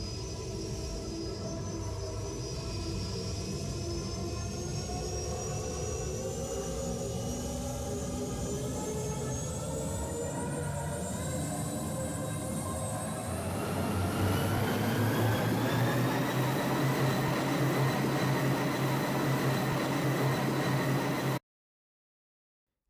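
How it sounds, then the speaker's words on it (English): Spaceship engine in an Unreal Engine game, a steady synthetic hum whose pitch climbs as the ship speeds up, with a louder, fuller roar kicking in partway through and continuing alone. "the pitch is going higher the faster this ship goes"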